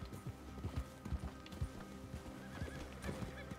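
A horse in Red Dead Redemption 2 clip-clops with quick, uneven hoofbeats and gives a whinny, fairly quiet, set against faint game ambience.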